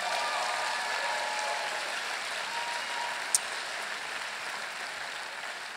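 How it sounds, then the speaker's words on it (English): A live event audience applauds the organizers, a steady wash of distant crowd clapping that continues evenly, with one brief sharp click partway through. "Give them a big round of applause, everybody."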